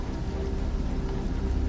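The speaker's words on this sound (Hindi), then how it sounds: "इतनी तेज बारिश है और अंधेरा भी" Heavy rain pours down in a dark night scene of a Hindi horror story, a steady dense hiss with a low rumbling undertone, continuous and with no voices.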